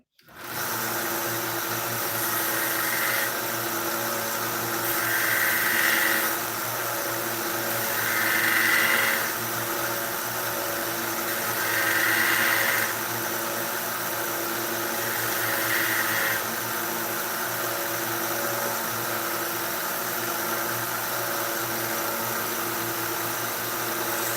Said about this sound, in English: Now this grinder is kind of annoying because the platen itself, it doesn't fit the width of the belt.